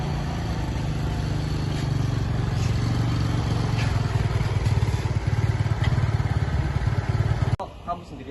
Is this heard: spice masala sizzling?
no